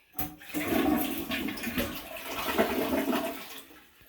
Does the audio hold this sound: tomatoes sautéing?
no